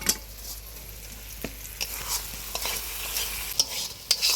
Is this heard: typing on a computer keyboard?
no